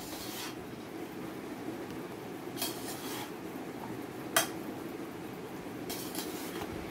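Chana chaat with green coriander being stirred in a bowl, a steady soft scraping and rubbing with a few sharper clinks of a spoon against the dish, close and fairly quiet with no talking.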